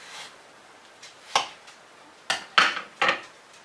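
Knife slicing through apples on a board, prepared for dehydrating: a few sharp, separate cuts and taps come close and fairly loud with short pauses between them, ending in a quick cluster of three strokes.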